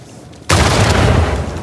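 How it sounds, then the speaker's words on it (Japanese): An exploding mummy in Uncharted 4: A Thief's End erupts in a sudden, loud blast after a quiet moment, followed by a dense, roaring rumble that holds for over a second. "爆発するミイラ。"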